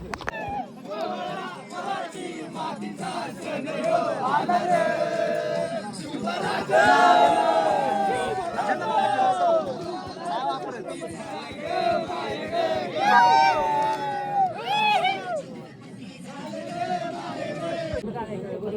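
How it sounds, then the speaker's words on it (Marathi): A large crowd climbs a fort for the Shivaji coronation celebration, with dense chatter, overlapping voices and occasional shouted chants rising and falling close by throughout. "गर्दी बघा गडावर दर्शन घ्यायला चाललंय तर गर्दी बघा केवढी"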